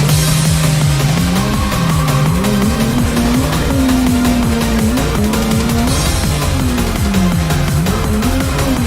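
A freshly engine-swapped BMW E36 drift car circles a track with its engine wailing and rising and falling, while the tires squeal continuously, loud and close.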